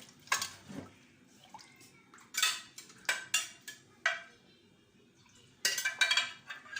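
Metal pot and utensils clink and scrape in separate bright bursts while tilapia cooks in a pan, with watery splashing and stirring between the sharper knocks.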